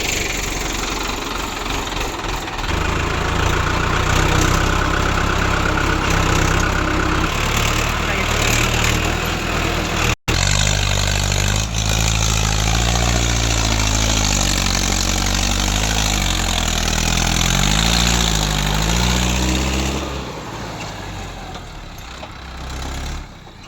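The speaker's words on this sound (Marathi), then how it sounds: "हे बघा इथून रिवर्स जाऊ द्यावं लागते ट्रॅक्टर तिथं डायरेक्ट." A tractor engine idles close by at a site where a JCB digger is moving murum gravel, a loud continuous rumble that briefly cuts out midway and then wavers in pitch.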